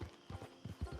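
Horse hooves clip-clop in the video game Red Dead Redemption 2, a brisk run of four quick, soft thuds within a second, heard alone and faint.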